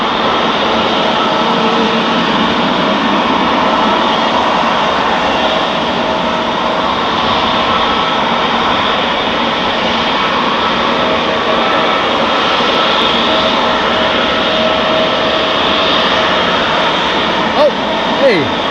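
A jet airliner passes at Amsterdam Schiphol Airport, its engine roar loud, broad and steady throughout, with a brief sharper burst near the end.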